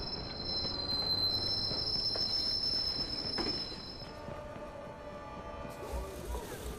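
A westbound train in the video game Watch Dogs rolls past with a loud rumbling clatter and high, sustained wheel squeal, fading somewhat toward the end as the cars continue by.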